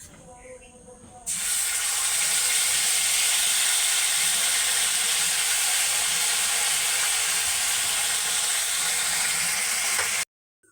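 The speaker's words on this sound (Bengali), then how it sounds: "এবার এর মধ্যে আমি কাঁচা লঙ্কা আর আদা বাটা দিয়ে দিচ্ছি" Green chilli and ginger paste hits hot oil with a sudden loud hiss, then sizzles continuously and evenly for about nine seconds before cutting off, close up.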